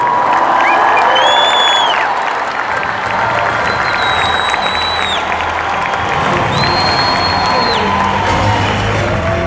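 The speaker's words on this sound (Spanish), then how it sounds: "Un aplauso para Hugo, por favor." Loud crowd applause mixed with cheering and high whistles and whoops at a motivational business event, clapping sustained throughout with shouts rising over it.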